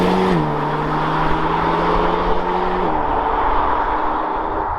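Alpine A110S sports car driving on roads, a steady engine drone with a clear tonal note that drops in pitch at about the one-second mark and again near three seconds, like gear changes, loud and close with no talk.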